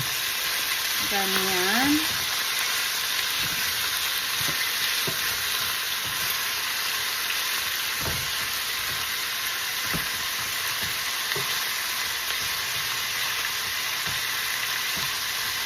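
Chicken steak sizzles and fries steadily in a pan over medium heat, a close, continuous crackle with a few clatters of turning, while a person speaks briefly near the start.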